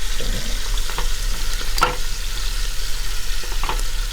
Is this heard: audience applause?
no